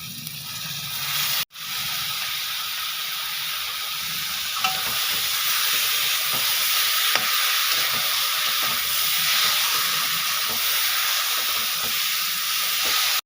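Boiled taro leaves fry in a pan with salt and turmeric, giving a steady, close sizzle and hiss that runs almost unbroken. Faint stirring scrapes sit beneath it, and one short gap comes near the start.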